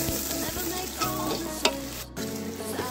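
Chopped onion, garlic and chili fry in a pan outdoors beside a river, a steady close sizzle broken by spatula knocks and scrapes, with a brief dropout near the end before the frying resumes.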